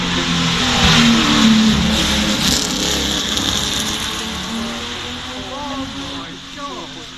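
Ferrari Daytona V12 racing car accelerating up the hill at the Goodwood Festival of Speed, a loud engine roar that passes and slowly fades, with a commentator talking over it.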